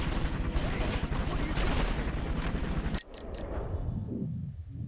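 Loud, sustained gunfire from the video game 24: The Game, rapid shots blending into a roar before cutting off abruptly, followed by a couple of sharp cracks and a fading rumble.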